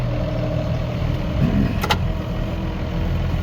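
A tractor engine runs at a steady, loud rumble while a hay bale is raised high on a muddy cattle-feeding run, with a brief sharp squeak or whine partway through.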